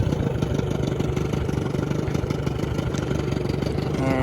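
A 1995 Johnson 25hp electric-start short-shaft tiller outboard motor runs on a 14-foot Lund boat with a steady, even putter at moderate volume, continuous from start to finish.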